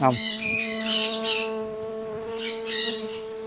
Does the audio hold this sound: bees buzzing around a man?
yes